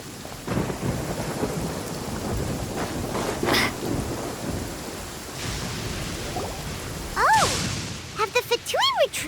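Thunderstorm ambience in Genshin Impact: steady heavy rain with low thunder rumbles throughout, then near the end a few sharp electric crackles and tonal zaps that sound like lightning strikes.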